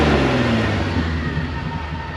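A vehicle engine runs loud and close on a winter trail, its low rumble steady and easing slightly as it settles.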